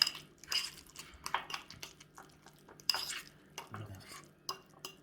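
Avocado being mashed for guacamole with lime juice, pepper and salt in a bowl, a series of irregular soft squishes and clinks of utensil against the bowl, close and quiet with no talk.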